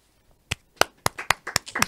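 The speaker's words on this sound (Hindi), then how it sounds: "तालियां इनके लिए बजनी चाहिए, मेरे लिए" A handful of separate claps from a small audience, starting sparse and growing into a quicker, uneven patter over about a second, fairly close and with no talking.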